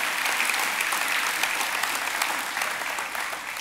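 Dense, steady audience applause fills the room, loud and continuous with scattered sharp claps and no talk over it.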